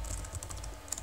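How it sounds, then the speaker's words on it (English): Quick typing on a computer keyboard, a close, steady patter of light key clicks with no talk. "So just type everything what I type."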